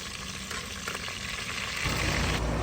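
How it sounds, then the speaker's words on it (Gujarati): Bottle gourd and potato pieces frying in oil, a dense continuous sizzle that swells louder partway through, close and unbroken, without any speech. "આપણું શાક આપણે બનવા મૂકી દીધું છે દૂધીનું દૂધીને બટેટા તેલમાં ગળે છે"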